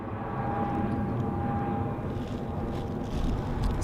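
Aer Lingus A320neo airliner climbing after a go-around, a distant steady jet roar that rumbles low and continuous with a faint whine, slightly swelling toward the end.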